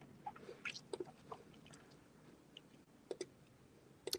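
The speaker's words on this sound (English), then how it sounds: "I can hear you chewing." Someone chews close to a microphone, giving faint, soft irregular clicks and smacks over a low background hiss, with no talking.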